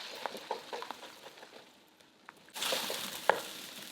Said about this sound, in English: Add the beaten eggs and scramble until partially cooked.